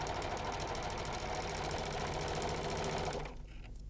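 A Janome 634D overlocker stitches two pieces of fabric with a loud, steady mechanical whir and rapid needle rhythm, running continuously before stopping abruptly near the end.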